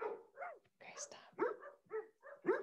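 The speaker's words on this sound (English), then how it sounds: "It's a nice touch with the dogs barking at the end." Dogs give small, faint barks and whimpers in a quick, uneven series, heard alone at low volume.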